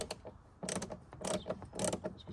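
Close, ratcheting clicks from a screwdriver undoing a small screw on a Smart car 450 City trim part, arriving in three short rhythmic bursts with faint handling noise between them.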